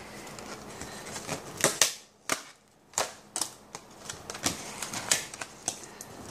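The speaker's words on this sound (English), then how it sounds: "So I'm going to take them off the scotch tape that they've got holding them on." Scotch tape being peeled off a set of Stampin' Up craft dies, a string of faint crackly ripping bursts and small sharp ticks scattered unevenly, close up and quiet with no voices.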